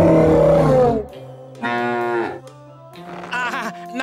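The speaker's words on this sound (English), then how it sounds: "Nice moo cow." A cartoon cow gives a few loud, drawn-out moos in sequence, each a rich low bellow with gaps between, heard close with no talk over them.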